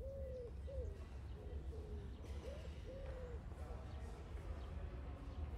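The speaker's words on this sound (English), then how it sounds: "Birds sing as citizens go about their daily lives" Birds sing and coo in the calm early morning of New York City on a sunny September day, a few short tonal calls repeating over steady low city rumble.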